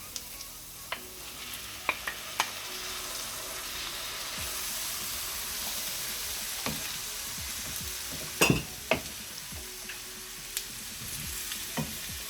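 Tomatoes hitting a hot pan for butter chicken, a steady close sizzle and frying hiss with scattered clicks of stirring, no voices.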